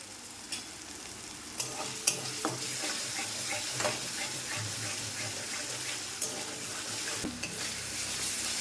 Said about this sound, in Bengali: মশলাটা ভাজা হয়ে গেছে, সুন্দর মতো মশলাটা কষানো হয়ে গেছে